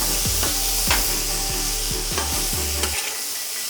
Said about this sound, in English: Let's get our meat in here.